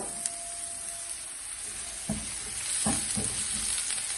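Garlic frying in a pan over a low flame gives a soft, steady sizzle throughout, with a few brief stirring scrapes and clicks toward the end.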